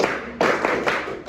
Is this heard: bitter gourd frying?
no